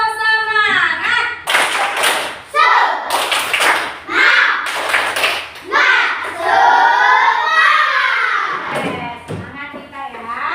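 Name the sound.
class doing rhythmic spirit clap (tepuk semangat)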